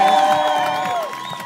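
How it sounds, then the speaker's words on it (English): A crowd at a volleyball match between Canada and Tiki at White Thorn Lodge cheers and whoops loudly, with high shouts ringing over the noise and the sound easing off toward the end. "Let's give both teams a big round of applause."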